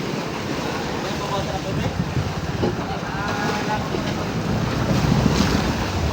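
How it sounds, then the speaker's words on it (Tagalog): Strong wind buffets a boat out on rough Pacific seas, with waves sloshing and crashing against the hull in a loud, continuous roar that swells and surges. "medyo maalon-alon ngayon mga idol, saka malakas ang hangin"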